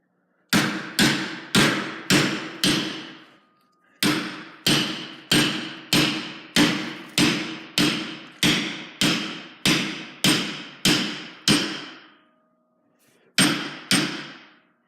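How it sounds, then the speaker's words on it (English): A hammer strikes a homemade metal shield plate again and again in a steady, ringing rhythm: a run of five blows, a pause, a longer run, then two more hits. "Now I'm going to grab the hammer and hit it a couple times till it's the angle I need it."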